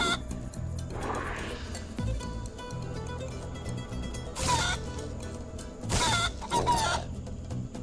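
Cartoonish chicken clucks from the Guacamelee 2 video game, bursts of clucking and squawks repeating over steady game music, loud and close.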